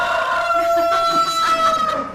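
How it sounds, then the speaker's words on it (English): A rooster crows a single drawn-out cock-a-doodle-doo at dawn, clear and moderately close, heard alone. "you will hear the rooster calling out at the crack of dawn."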